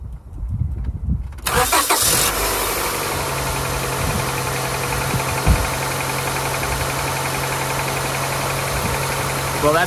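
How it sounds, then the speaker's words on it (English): A 2000 Honda Accord engine, with a newly replaced distributor, cranks and catches, then settles into a steady, close idle with a low rumble and faint mechanical rattling. "I'm gonna go ahead and start the vehicle and make sure everything is running okay now."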